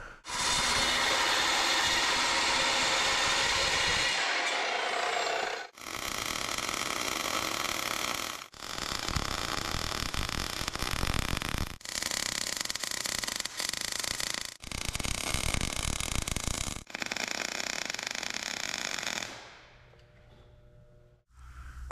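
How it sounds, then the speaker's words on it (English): Arc welding on angle iron in a shop, with several separate bursts of loud, close crackling and hissing, each lasting a few seconds and split by short pauses, ending in quieter shop noise. "I'm going to weld up this angle iron, put the plate on"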